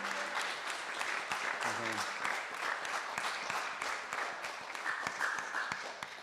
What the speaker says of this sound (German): aber ein Applaus für Taiwo